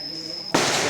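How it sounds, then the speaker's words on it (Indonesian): A single sharp, loud gunshot cracks close by at a shooting range at the Cu Chi Tunnels in Vietnam, following a steady high-pitched tone. "benar-benar suara tembakan asli ketika perang dahulu"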